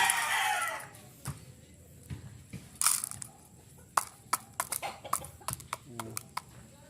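Chickens cluck and peck in short irregular bursts, close by, with scratchy feeding noises and a soft rustle underneath.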